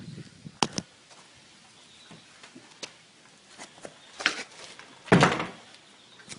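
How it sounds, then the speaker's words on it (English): A basement door in the historic George Washington Sandoe House is shut, giving a few soft knocks and a firmer closing thud near the end, close by in a quiet room. "let me pause just for a minute to shut this basement door."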